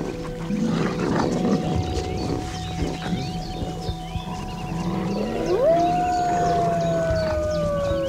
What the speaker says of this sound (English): The pack maintains discipline by barking, growling, and howling, which reduce the need for open conflict.